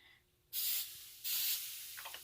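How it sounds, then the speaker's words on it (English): Coconut cooking spray hisses onto a preheated waffle maker in two short bursts, close and fairly loud, followed by a faint sizzle. "So I'm going to spray it. I use coconut cooking spray"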